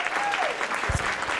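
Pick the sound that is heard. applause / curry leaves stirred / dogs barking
applause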